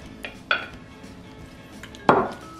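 A utensil scrapes and clinks against a bowl while soy sauce and honey are mixed for Korean-style mushrooms, two brief knocks in a quiet kitchen with no talking.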